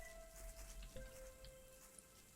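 Steady rain falls in the farming video game Garden Paws, a soft, faint, even hiss of drops that continues throughout without any voices.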